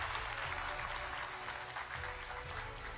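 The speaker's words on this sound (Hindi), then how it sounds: "जोरदार तालियां हो यहां पर" Audience applause at an interview event, dense steady clapping from a crowd, fairly distant and even throughout, with no voices over it.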